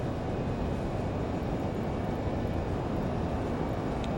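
Fenix A320 jet engines in a flight simulator game, roaring at takeoff power as a dense, steady, loud rumble with no pauses or breaks.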